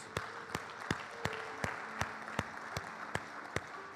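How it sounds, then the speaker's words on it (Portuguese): A church congregation in a Portuguese-language service claps together in slow, evenly spaced unison beats, soft and somewhat distant, with a faint sustained tone running underneath. "Quem pode aplaudir o nome de Jesus?"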